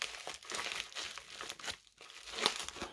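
Plastic bubble mailer packaging is cut open and handled, producing close, crisp crinkling and tearing bursts in quick irregular succession, with no voices.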